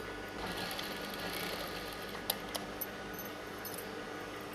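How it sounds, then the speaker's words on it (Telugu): A sewing machine runs steadily while stitching the sleeve seam of a chudidar, a faint continuous whir with a few small metallic clicks partway through. "సైడ్లో ఫుల్గా ఒక స్టిచ్ చేసేస్తాము."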